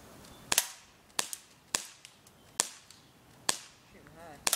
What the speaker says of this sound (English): I'm going to be shooting at the Coke can.